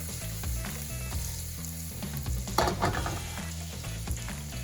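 Mushrooms and rosemary sizzle steadily in a hot pan, a constant close frying hiss with faint crackles, and no voices over it.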